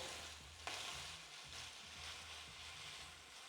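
Shrimp fry in a hot pan for Chinese-style fried rice, a continuous close sizzle with soft scraping from stirring running through, at a low, even level and with no voices.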